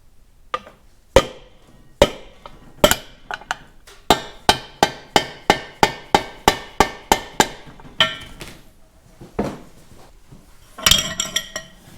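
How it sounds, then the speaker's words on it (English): A hammer taps the end of a driver handle to seat a clutch part on a Minneapolis-Moline prototype X231 tractor, a loud run of sharp metallic strikes, first scattered and then in a quick regular series of about ten, ending with some rattling. "I will tap on the end of the driver handle till we get it fully seated"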